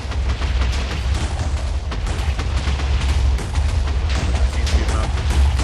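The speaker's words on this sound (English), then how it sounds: "TNT up, flying up, destroying the flying machine." TNT exploding in Minecraft on a super flat water world, blasting apart a flying machine and rails, as a dense continuous rumble of overlapping booms, loud and close, with no pauses between blasts.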